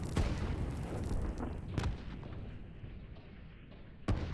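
Artillery firing in the real-time strategy game Line War, with sharp booming shots near the start, one at mid-point and another near the end, separated by a lingering rumble of distant battle.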